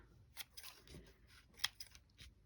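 Scissors snipping paper for a handmade greeting card, heard as a few quiet, crisp cuts spread over two seconds against a soft, hushed indoor background.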